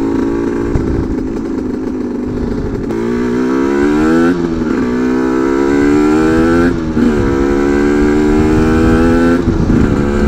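Aprilia RS 125 motorcycle ridden gently while the engine is being run in, its loud buzzing two-stroke note rising through the revs and dipping at several gear changes, heard close with wind noise.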